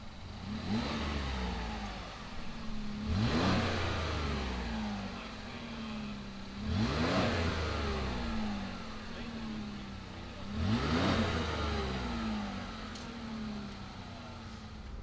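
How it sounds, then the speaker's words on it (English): A 2019 Chevy Colorado ZR2 Midnight Edition midsize truck engine idling, then blipped in three separate revs spaced a few seconds apart, each rising and falling back to a steady idle, heard fairly close. "fire the ZR2 up and see what it sounds like"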